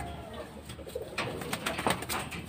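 Soft cooing and a few wing flutters from a homing pigeon arriving home during training, fairly close, with faint background noise and no talking.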